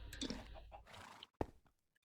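A horse in the Minecraft video game neighs in a short whinny, followed by a sharper single burst and a faint tail, fairly quiet and alone without talk.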